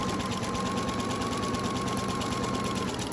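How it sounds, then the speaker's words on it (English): A close sewing machine with its integrated dual feed engaged sews one straight line of stitching, a constant, even hum and rapid needle chatter that holds without a break. "Just going to go ahead and sew one straight line of stitching."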